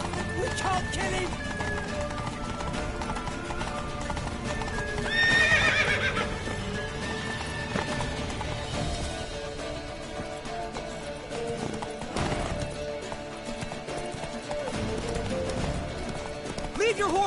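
Horses gallop with rapid clip-clopping hooves and occasional whinnies and neighs during a frantic escape in The Witcher, under urgent shouted voices.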